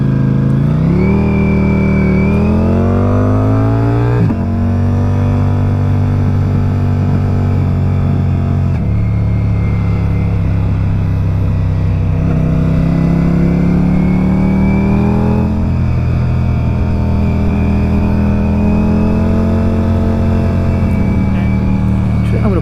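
A 2023 Ducati Diavel V4 motorcycle engine on a test ride drones steadily and loudly, its pitch rising and falling through gear changes as it accelerates and eases off throughout.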